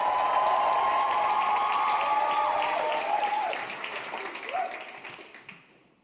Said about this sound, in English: Can I have a massive round of applause for the wonderful Iffy Grillo